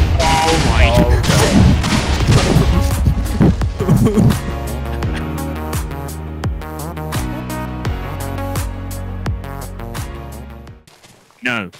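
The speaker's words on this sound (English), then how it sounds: "And watch the fireworks." Fireworks go off in The Dropper game: a dense barrage of crackling bursts and booms at first, easing into a steady run of regular thuds before cutting out.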